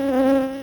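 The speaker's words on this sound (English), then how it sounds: "This time of year we're seeing wasp attack" Wasps buzz around a beehive in late season, drawn by sugar syrup in a feeder pot; a steady, close insect drone with a strong tone, holding level then easing off slightly.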